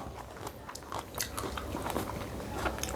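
Crunchy bites and chewing of fruit, including tomato and mango dipped in fermented fish chili dip, sound up close as repeated crisp snaps and wet crunches.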